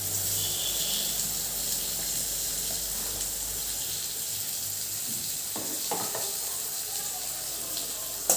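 Sliced onion and carrot sizzling in a pan on a low gas flame, a steady hiss throughout with a few faint clinks near the end.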